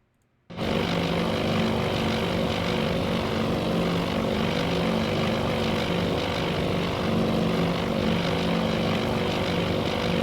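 Droning B-17 bomber propeller engines from a Battle of Midway naval strategy video game, a loud steady roar that cuts in abruptly after a brief silence and holds level throughout, no talking.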